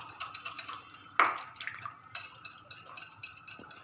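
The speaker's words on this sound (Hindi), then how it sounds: "अच्छी तरह मैं इसको मिक्स कर रही हूँ।" Soft, close scraping and clinking of a spoon against a bowl while raita is mixed with black pepper and salt, with one sharper knock partway through and light rhythmic stirring around it.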